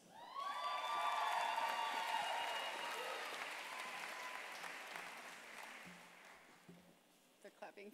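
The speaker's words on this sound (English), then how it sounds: "They're clapping for us" An audience at a New York Fashion Week 2023 event applauds Target's speakers on stage, a loud swell of clapping and cheering with whistles that slowly fades, with a few voices near the end.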